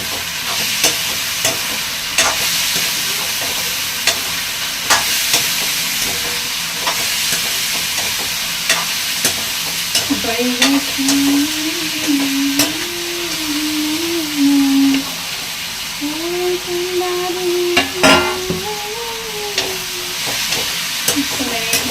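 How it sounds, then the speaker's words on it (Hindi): Cashews, almonds, tomatoes and green chilies roast lightly in a pan, giving a steady broadband sizzle with scattered stirring scrapes, while a faint tonal melody plays in the background partway through. "काजू बादाम टमाटर हरी मिर्च सारी डाल दिए हैं। अब इनको थोड़ा मैं ऐसे भून लूँगी हल्के से।"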